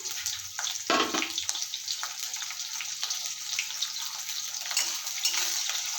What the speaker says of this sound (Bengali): তেল গরম হয়ে গিয়েছে, কেটে রাখা পেঁয়াজ ঝাল দিয়ে দেবো।